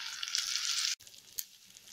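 Onion, ginger and garlic sautéing in a pan for a soya chunk pepper fry: a steady bright sizzle, briefly cut off, then quieter frying with small crackles.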